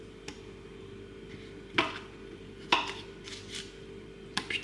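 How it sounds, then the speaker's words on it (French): Pieces of Noirmoutier sea-salt-crystal butter dropped into a frying pan, giving a few sharp, separate clinks and knocks close by against quiet background hum, with no talking. "Prenez-en quelques morceaux et mettez-les dans la poêle."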